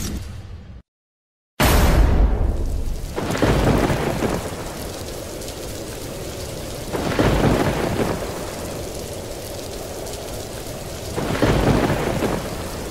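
A cartoon thunderstorm in the Sundarbans: heavy rain pours steadily while several loud rumbling thunderclaps roll in, one after a brief break in sound and others at intervals.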